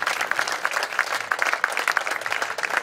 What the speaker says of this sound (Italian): Un applauso, prego.